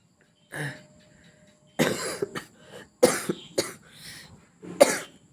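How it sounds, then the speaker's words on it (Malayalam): Several separate coughs from one person at close range, some single and some in quick pairs with short pauses between, with a little throat clearing and no speech. "ചുമയൊക്കെ ഉണ്ട്."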